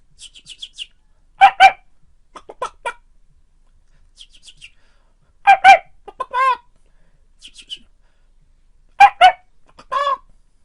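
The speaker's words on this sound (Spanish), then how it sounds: "el pollito hizo pío pío dos veces" Small birds peep and chirp in short clustered bursts, with pairs of sharp calls recurring at regular intervals and quiet gaps between them.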